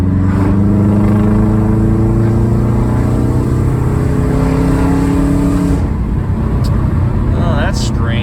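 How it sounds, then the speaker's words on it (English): A 2005 Subaru engine pulls steadily in third gear at quarter throttle, rising in pitch with a loud, continuous drone heard from inside the car, then the revs ease off and someone talks near the end. "Do a third gear, quarter throttle."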